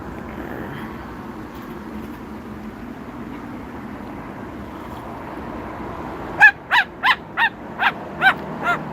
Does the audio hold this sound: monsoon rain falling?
no